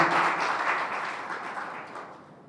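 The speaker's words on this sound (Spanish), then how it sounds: "Solamente por eso démosle un aplauso." Applause from a lecture audience, loud at first and gradually fading over a couple of seconds.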